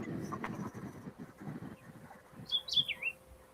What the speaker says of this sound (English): now the birds, I hear they back.